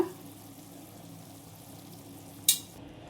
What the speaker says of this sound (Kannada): ಈ ಮಸಾಲೆ ಫ್ಲೇವರ್ ಹೋಗೋದು ಒಂಚೂರು ಚೆನ್ನಾಗಿ ರೋಸ್ಟ್ ಮಾಡ್ಕೊಳ್ಳಿ ಫ್ರೈ ಮಾಡ್ಕೊಳ್ಳಿ